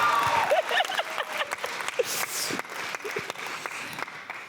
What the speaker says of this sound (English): Y'all better be clapping.